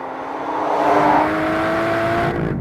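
The V12 engine of a 2015 Aston Martin V12 Vantage S roars while driving, its note rising in pitch and then holding at a strong, steady, loud level.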